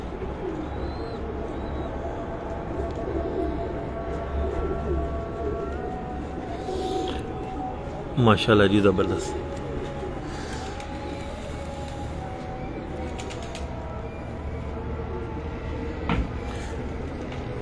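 Breeder pigeons coo steadily from a rooftop loft, where the females sit on their eggs. A soft, continuous murmur of birds runs throughout. Someone speaks briefly over it, and a short louder burst of activity comes about midway.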